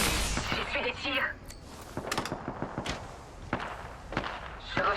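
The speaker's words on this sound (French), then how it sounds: "On me tire dessus." Gunfire in Apex Legends, a scattered series of sharp shots and short bursts at mid distance, mixed with footsteps and game effects, while a player talks throughout.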